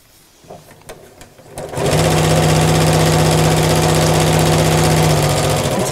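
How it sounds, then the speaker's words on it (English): A sewing machine stitches along a fabric crease line while making a mat, starting with a few faint clicks before settling into a loud, steady, fast-running hum that continues to the end. "So I'm literally sewing along the crease line."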